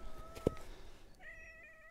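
A small cat on a mountainside gives one short, clear meow partway through, heard alone over faint outdoor ambience with some thin tonal noises afterward.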